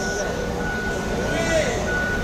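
A Litha & Co. bus reverses out of its garage toward a Makassar terminal, a steady electronic reversing tone sounding over continuous engine rumble while people talk nearby.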